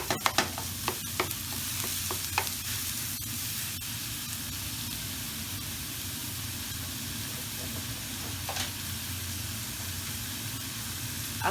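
About 500 grams of beef mince sizzles softly in a pan over browned onions for beef nachos. A steady low hiss runs throughout, with a few sharp utensil clicks early on and no talking.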